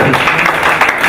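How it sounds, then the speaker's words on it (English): Applause from the audience at a police farewell party for the RPC of the North Kyoga Region: a brief, steady burst of dense clapping filling the room, with no talking over it. "Can we put our hands together again and clap for"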